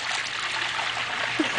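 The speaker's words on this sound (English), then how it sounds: "Are you splashing in the pool?" A baby on a first swim in a new backyard pool makes a steady close trickle and light splashing of water, soft and unbroken, with one small splash near the end.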